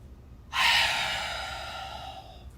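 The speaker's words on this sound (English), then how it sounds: "a lot of yawning, and not just like regular yawning" A deep, gasping yawn begins with a sharp intake and trails off in a long, breathy exhale, close and fairly loud with no talking.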